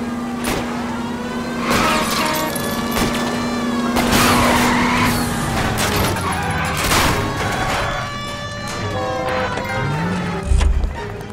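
Video game car chase in L.A. Noire: a car engine roars throughout with repeated tire skids and squeals, bursts of gunfire, and a loud engine revving, all close and continuous.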